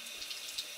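A bathroom sink tap runs with a steady, faint, hissing stream of water, heard alone and quite quiet.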